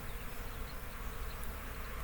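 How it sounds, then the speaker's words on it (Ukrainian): A steady buzzing drone of many honeybees flying nearby on their first cleansing flight of the year in mid-February, continuous and fairly even in loudness, with no voices. "Ось таку бджоли перший раз в цьому році полетіли."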